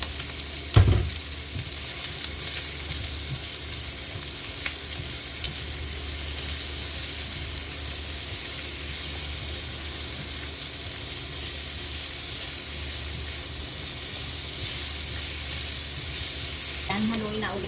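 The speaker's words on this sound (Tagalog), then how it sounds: "Isunod na natin yung itong garlic at saka onion." Garlic and onion hit hot oil with a loud burst, then keep up a steady close sizzle for a long stretch, ending in a brief stir scrape. Nobody speaks over it.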